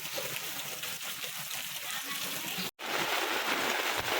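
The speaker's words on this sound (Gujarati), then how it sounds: "તો અત્યારે વરસાદ બહુ છે" Heavy rain pours steadily in a village setting, a dense continuous hiss and patter of water, loud and close throughout, broken only by one very brief dropout near the end before the downpour resumes.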